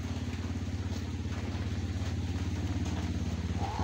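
A new motorcycle passes on a muddy road, its engine a steady low drone that swells slightly as it nears, heard at moderate distance with a faint voice in the background.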